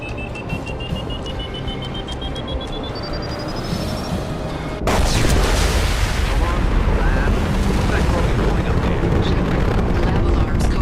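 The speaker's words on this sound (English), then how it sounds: "Impending explosion." A sci-fi lab explosion in the Mass Effect video game: rising electronic alarm tones give way to a sudden loud blast, followed by a sustained roaring rumble. Game voices speak over the scene.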